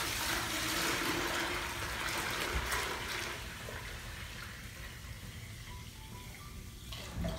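Water pours steadily into a JBJ Cubey 15-gallon aquarium tank, a close, continuous rushing splash that eases slightly in level over the few seconds.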